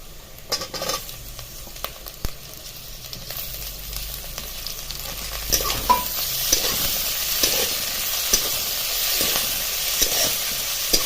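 Onion and tomato frying in a pan for a Pandharpur-style bazaar amti curry, a steady sizzle broken by sharp scrapes and knocks as the mixture is stirred.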